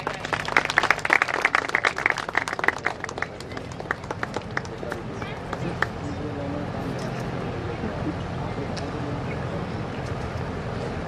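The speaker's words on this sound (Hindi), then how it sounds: "एक बार जोरदार तालियां बजाएं।" Crowd applause at a factory opening ceremony in Mohan Badodiya, Madhya Pradesh, with rapid, dense clapping strongest at first, then fading into a softer, steady murmur of background noise.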